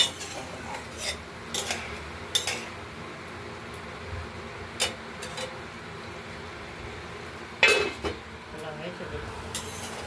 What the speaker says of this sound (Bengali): মশলাটা আমরা দিয়ে কষাচ্ছি, কড়াই দেখছেন